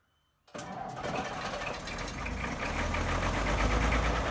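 An old tractor engine cranks and catches after a brief silence, settling into a loud, steady rumbling run that grows slightly stronger.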